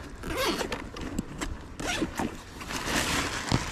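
Rustling plastic and a ziplock bag being pulled open in short scraping bursts while squid fishing in Spain, close by, with handling noises in between.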